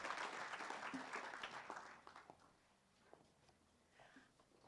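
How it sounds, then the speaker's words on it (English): Audience at a school board business meeting applauds high school students; the clapping starts full and loud, then thins out and fades to a few scattered claps within a few seconds. "Can we get another round of applause for our high school students?"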